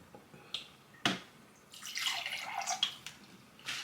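Water poured into a measuring cup in a home kitchen: a few sharp clicks and drips, then a splashing, gurgling pour lasting about two seconds, quiet and close, no speech.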